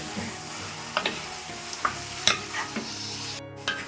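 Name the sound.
stirring chicken frying in a pan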